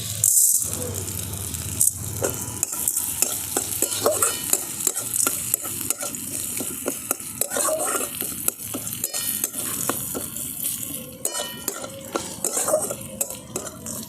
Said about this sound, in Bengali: এরপর দিয়ে দিচ্ছি চানা ডাল।